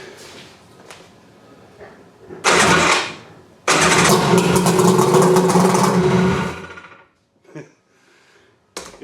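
Tiger Shark 900 jet ski engine cranks and catches in a loud burst, dies briefly, then fires again and runs roughly for a few seconds before cutting out, followed by faint handling noises.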